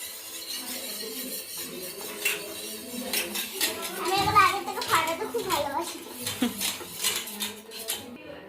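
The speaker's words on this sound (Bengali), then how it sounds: "এবার চামচ দিয়ে ভালো করে ওটাকে ফেটাবে আস্তে আস্তে" A spoon rapidly beats coffee and sugar in a cup, giving a steady stream of clinking and scraping beneath children's chatter and other voices.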